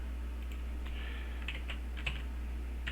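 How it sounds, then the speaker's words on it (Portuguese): Password typed on a computer keyboard, a quiet run of scattered key clicks over a low steady hum, close and without talk. "Vou digitar uma senha."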